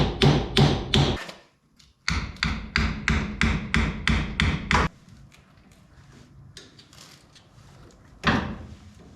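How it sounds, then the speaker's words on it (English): Bolts are hammered out of a Jeep CJ5 spring shackle with sharp, loud metal strikes in rapid rhythmic bursts, a pause, then a long run of blows, quieter shop noise and one final hit. "We gotta hammer the crap out of it and work both of these bolts back"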